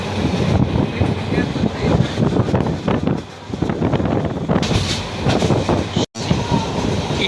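The Kishoreganj Express intercity train runs at speed, giving a continuous loud rumble and clatter of wheels with wind buffeting the microphone and a brief dropout near the end.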